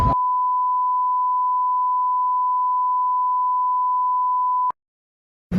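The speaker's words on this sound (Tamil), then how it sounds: "இதெல்லாம் பீப்பு தான் போடணும்." A single steady censor bleep, a pure tone held for about four and a half seconds, loud and alone, bleeping out speech during a Madurai street-food chat about kari dosai.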